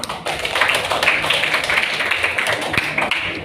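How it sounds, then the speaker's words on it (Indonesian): A classroom of students claps for a student group after their presentation, a dense run of quick hand claps and taps that fills the room at moderate loudness with no speech. "Tepuk tangan buat kelompok 7"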